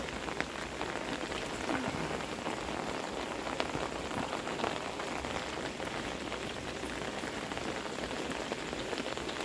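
Pouring rain drums steadily and densely on surfaces outdoors, a constant broadband wash of close patter with no pauses and no voices.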